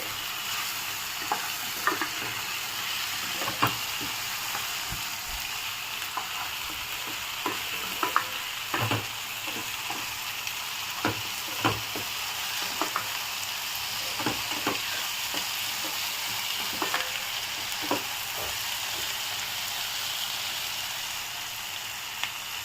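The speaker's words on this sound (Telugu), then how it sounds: "ఒకసారి మిక్స్ చేద్దాము" Meal maker chunks fry with biryani masala, coriander powder and garam masala in a pan, sizzling steadily while a spatula stirs and scrapes in frequent light ticks and scratches over the constant hiss.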